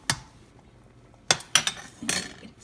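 A metal spoon scraping and knocking against a pot of simmering menudo with corn, making several sharp clinks and clatters with quiet gaps between them.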